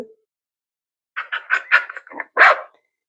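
A small dog barks in a quick run of five or six sharp yaps, close and loud, after a moment of silence.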